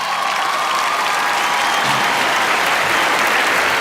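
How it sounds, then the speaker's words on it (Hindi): Loud, dense applause from a large audience at an Indian film awards ceremony, a steady wash of clapping that runs unbroken for about four seconds with faint crowd noise underneath. "Okay, finally, तालियां for आलिया।"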